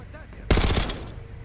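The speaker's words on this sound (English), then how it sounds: "Someone is shooting at me, but who?" Gunfire in Call of Duty: Black Ops 6, with a sudden loud burst of rapid automatic shots that lasts under half a second and then trails off, heard close and alone.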